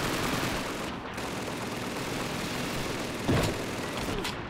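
Submachine gun fire in the World War II shooter Call of Duty 2, continuous rapid rattling bursts with a sharper, louder shot near the end, over steady background game noise.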